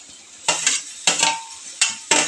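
A spoon stirs tomatoes frying in a pan for a village-style ridge gourd curry, with loud scraping strokes in quick bursts over a steady soft sizzle.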